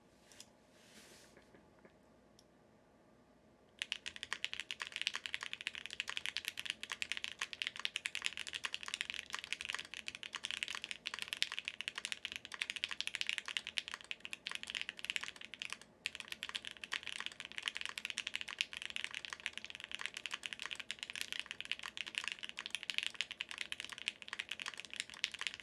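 Fast continuous typing on a Space 80 Apollo TKL mechanical keyboard with Gateron Oil King switches, close and crisp, starting after a few quiet seconds and clattering steadily to the end with one brief pause.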